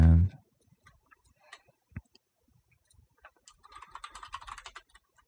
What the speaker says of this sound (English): let's go type in PiShrink